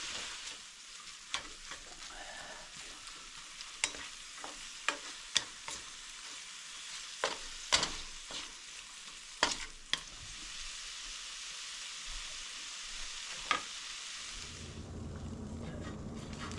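Cooked trout sizzles softly in a buttered pan while a utensil breaks it apart and stirs, giving repeated sharp scrapes and taps over a quiet steady frying hiss, turning louder and fuller near the end.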